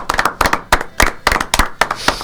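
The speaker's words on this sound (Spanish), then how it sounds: "¿Los aplaudimos a todos ellos?" Short, lively burst of hand clapping for the winners of a short-story contest, with quick irregular claps from a small group, close and fairly loud.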